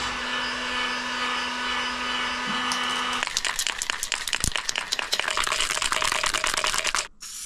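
A heat gun or hot-air blower warms the sheet metal panel of a Renault Trafic van before painting, a steady close whoosh with a faint tone, then crackling and ticking from the heated steel through the later half.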